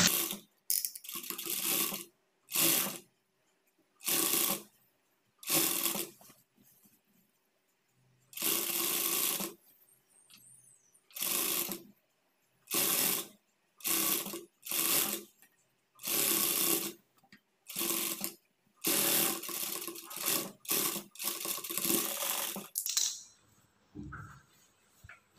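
A sewing machine stitches blouse lining cloth with long stitches in repeated short bursts, each a second or two of loud whirring separated by brief silences, over about twenty-five seconds.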